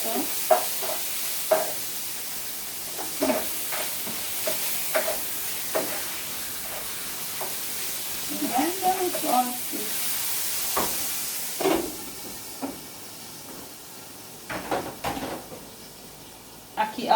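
Bacon crisps in a pan for a Jamaican breakfast, a faint steady sizzle running throughout beneath intermittent stirring clatter and brief voices.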